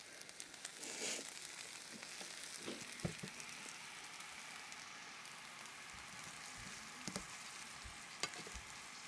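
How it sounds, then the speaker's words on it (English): Zucchini and squash sauté with oil in a ceramic skillet, giving a steady, even sizzle throughout with a few brief stirring clicks and pops. "Right now I'm just sauteing some zucchini and squash"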